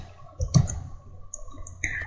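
Computer keyboard keys and a mouse click during Photoshop editing, giving a few sharp, close clicks spaced out over quiet background, with faint higher ticks between them.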